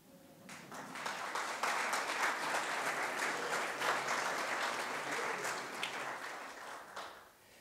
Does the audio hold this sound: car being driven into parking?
no